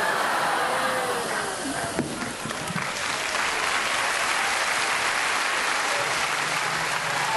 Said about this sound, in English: That's the easiest applause I've ever heard.